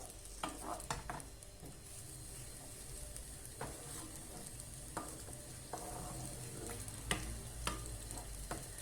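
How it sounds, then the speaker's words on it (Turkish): Eggs are stirred into tomatoes frying in a pan for Turkish menemen, giving a soft, steady sizzle with scattered scraping and tapping from a spoon as the mixture is turned. "Şimdi hemen yumurtasını koyalım. Şöyle güzelce karıştıralım."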